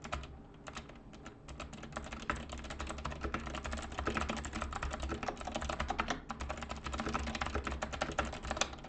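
Computer keyboard typing while entering text and pressing Shift+Enter, a dense run of quick close key clicks with a few brief pauses, steady and moderately loud, with no talk.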